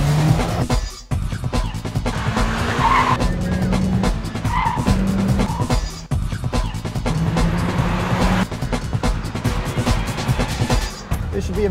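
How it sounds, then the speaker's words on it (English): A Mitsubishi Lancer Evolution X with an automatic gearbox launching hard in super sport mode, with loud engine roar, tire noise and a few brief drops in sound as the car accelerates. "This should be a better takeoff than my last run."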